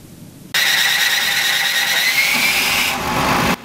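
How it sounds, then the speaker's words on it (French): A power generator engine in a neighbourhood starts abruptly and runs loud and close with a steady mechanical drone and high whine, cutting off sharply after about three seconds. "Le bruit des moteurs des groupes électrogènes, en pleine journée comme tard dans la nuit"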